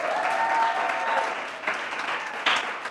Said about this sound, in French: j'aimerais qu'on applaudisse d'abord pour le club de lecture